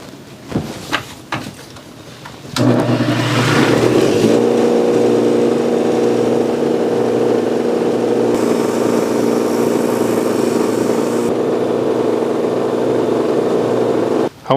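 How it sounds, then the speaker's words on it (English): A bench grinder spinning a metal wire brush cleans brake hardware for a Quadracer 250R front brake. After a few clicks it spins up to a loud, steady whine that runs for about twelve seconds, with brief rasping as parts are pressed against the brush. "Just hit them with the metal brush on the grinder"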